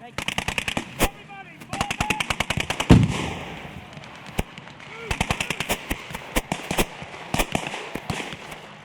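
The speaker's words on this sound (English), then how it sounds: "the machine gun isn't really doing us any good" Machine gun firing during a World War II re-enactment battle, loud rapid bursts of automatic fire interrupted by single sharp shots and a heavy boom, with shouted voices faintly underneath.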